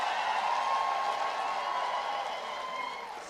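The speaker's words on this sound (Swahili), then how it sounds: "Simu nipigie makofi." Audience at a political gathering in Meru breaking into sustained applause, a steady wash of clapping and crowd noise that slowly fades toward the end.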